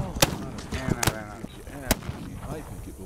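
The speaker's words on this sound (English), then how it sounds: "You guys are shooting a lot." Video game gunfire cracks out in several sharp, loud single shots spread irregularly across a busy battle, mixed with quieter background shooting while voices talk.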